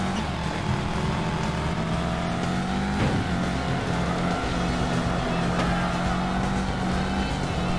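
A Subaru STI rally car engine drones in Sega Rally Revo on the PSP, a steady, loud engine hum with shifting pitch and a brief bump near the middle, with a voice talking over it.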